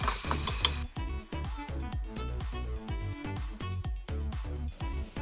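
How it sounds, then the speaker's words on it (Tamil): Sliced onions with fennel seeds and a little salt sauté in a pan for kuska biryani, with rhythmic, evenly spaced stirring scrapes over a soft sizzle. "ஆனியன் வதங்குற அளவுக்கு கொஞ்சமாக சால்ட் ஆட் பண்ணி கோல்டன் ப்ரௌன் ஆகிற வரைக்கும் வதக்கிக்கலாம்"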